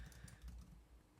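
Rapid typing on a computer keyboard while coding, with quiet, closely spaced key clicks over a low background hum and no voices.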